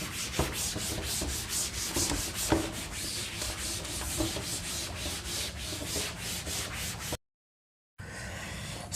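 A board being wiped clean of writing after a maths lecture, giving a continuous close rubbing swish with brisk repeated strokes, a short silent gap, then more rubbing, with no speech.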